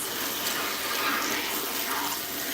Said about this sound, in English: Clean, rinse off any impurities.